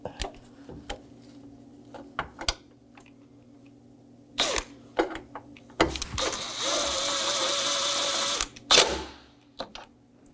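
A power drill drives 7mm bolts into a 2018-2024 Chevrolet Equinox headlight assembly: one sustained whirring run of about two and a half seconds, preceded and followed by scattered clicks and knocks of handling nearby.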